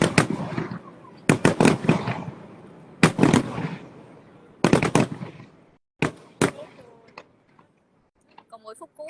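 Fireworks burst in rapid crackling volleys, loud and close, with clusters of sharp bangs separated by short pauses and echoing tails, ending in scattered faint pops.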